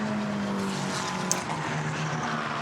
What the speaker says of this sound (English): Big trains of cars, 33 cars out here playing on the circuit.